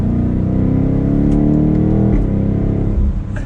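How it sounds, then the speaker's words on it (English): A 2022 BMW X7 M50i SUV's engine revs hard in third gear in Sport Plus, a loud, steady, deep rising roar with a brief dip near the end, heard from inside the cabin with no talking. "So we'll drop it down to third and give it a little bit of gas."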